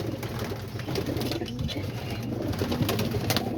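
Homing pigeons cooing close by, soft repeated throaty calls over a steady rustling, pattering background with no talk.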